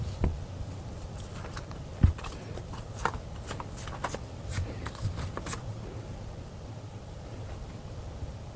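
Tarot cards are shuffled and drawn in quiet, close, soft papery riffles and taps, with irregular bursts over a faint steady background hiss and no talking.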